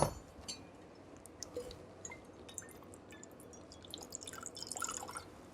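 A measure of vodka, about 1.5 ounces, goes into a cocktail shaker for a Christmas eggnog drink: a faint, soft trickle with small drips and light glassy clinks, close by and quiet.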